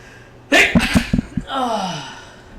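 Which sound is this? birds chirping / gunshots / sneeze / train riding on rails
sneeze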